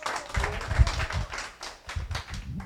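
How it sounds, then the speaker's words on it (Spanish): Colleagues at a local government meeting get a round of clapping, a short burst of hand claps with low thumps, fading and then picking up again. "un aplauso para los compañeros"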